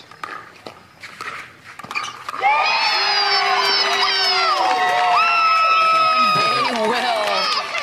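Crowd cheering and shouting erupts at a pickleball match at an outdoor tournament, rising after a couple of seconds and holding loud and sustained, with brief talk near the start.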